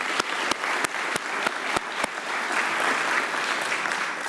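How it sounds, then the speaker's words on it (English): Audience applause at a city's State of the City address in Little Rock, a broad sustained wash of clapping with a few sharp louder claps near the start, moderately distant. "Let's give him a round of applause."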